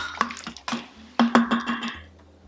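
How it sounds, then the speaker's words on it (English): Biryani paste being stirred in an Instant Pot, a spoon scraping and clinking against the metal inner pot in a handful of distinct, irregular knocks over a low hum, close up and with no talk. "So give that a good stir."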